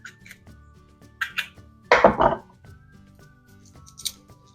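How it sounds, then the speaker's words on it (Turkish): Green peppers, including a red kapya pepper, are cut into large cubes with a knife, making a few crisp, close slicing and crunching sounds, one longer burst mid-way among quieter handling noises; no one speaks. "Şöyle iri iri küp küp doğruyorum."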